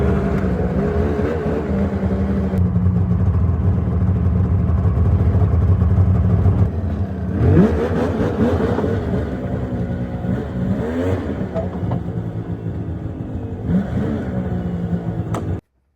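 A snowmobile engine rips through snow, revving hard and close for several seconds, then easing off before surging again in uneven bursts. The engine noise is loud and continuous, with no talking.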